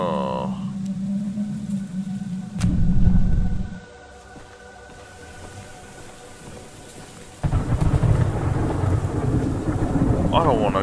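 Steady rain in the game Choo Choo Charles hisses throughout, with a loud rumble of thunder early on, a quieter muffled stretch, then heavy rainfall returning; a voice speaks briefly.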